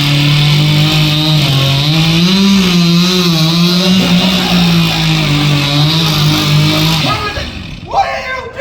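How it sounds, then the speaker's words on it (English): A loud chainsaw engine drones and revs steadily for several seconds during a final cut at a lumberjack show in Ketchikan, Alaska, then cuts out abruptly, leaving quieter background noise. "Complete silence while he runs the chainsaw."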